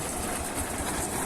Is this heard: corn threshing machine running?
yes